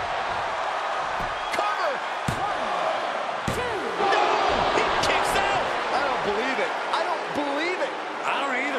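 A wrestling arena crowd in WWE 2K23 roars continuously through a championship match, a dense, loud wall of cheering with sharp slams and impacts cutting through and announcer voices over it.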